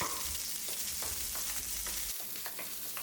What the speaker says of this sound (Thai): โจ๊กจะผัดพริกแกงเผ็ดด้วยไฟอ่อนๆนะครับ จนพริกแกงเริ่มเหลืองหอมก่อนครับ